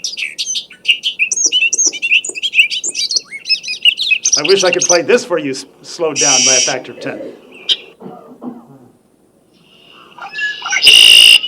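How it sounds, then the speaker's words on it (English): Red-winged blackbird songs, male and female, recorded outdoors: bright, buzzy chirps and trills in repeated bursts, with a harsh rasping phrase near the end, while someone talks over much of it. "Not a very melodious song here, the red-winged blackbird, but it sure is successful."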